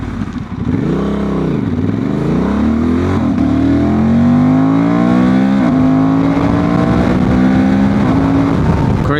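A remapped Honda Transalp 750 motorcycle accelerates hard through the gears, its engine revving loudly and climbing in pitch with each pull, close and continuous throughout.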